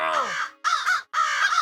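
Cartoon crows caw in three loud, close, harsh calls separated by short gaps, from a Motu Patlu episode.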